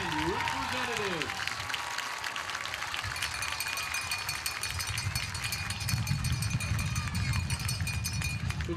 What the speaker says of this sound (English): Let's have a big round of applause for our 2014 candidates and representatives.